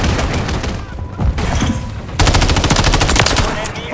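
Rapid automatic gunfire rattles loudly in a Call of Duty: Modern Warfare 3 multiplayer match, with bursts of shots and dense firing that intensifies in the second half, mixed with faint game voice chatter.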